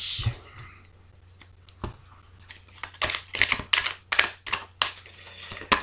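A deck of tarot cards being cut and shuffled, with a quiet start followed by a run of crisp, papery riffling slaps and taps at close range, coming in uneven bursts.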